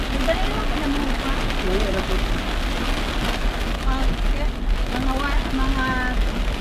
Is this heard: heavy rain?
yes